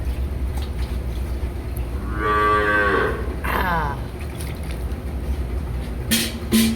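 A cow moos on a village farm, heard as one long, loud, nearby low call followed by a shorter second moo, set against steady outdoor background noise.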